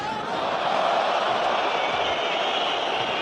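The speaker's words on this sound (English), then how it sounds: "Crowd howling because they feel that Jerry Collins is offside" A rugby crowd howls and jeers over a suspected offside during a 2004 France vs New Zealand test match, a steady roar of many voices that stays broad and distant for about three seconds.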